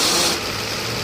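A Mercedes V12 engine with a faulty mass air flow sensor idles with a steady low rumble and a brief higher hiss at the start, close and continuous.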